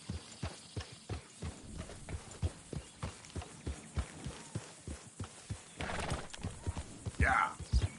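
Regular clip-clop of a horse's hooves at a walking pace in a PS4 video game, close and even, with a short horse snort or whinny near the end.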